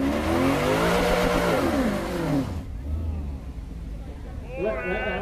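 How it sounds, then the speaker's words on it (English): A Ferrari V12 climbing a hill on a hill-climb course, loud near engine revving and rising in pitch for the first half, then easing off under lower rumble before a brief fresh rise at the end. "The V12 engine of the Ferrari singing as it goes up the hill right here at Con."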